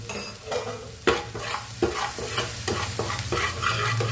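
Frying mixture with turmeric and salt stirred in a pan, a steady sizzle close up with repeated scraping strokes of the spoon at a quick, regular rhythm, no talking.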